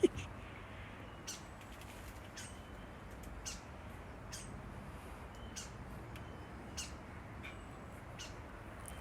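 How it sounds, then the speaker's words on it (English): Rooks and crows caw outdoors, a scatter of short, rough calls at a distance, spaced irregularly over a quiet background hiss. "That's some nice relaxing rook and crow action."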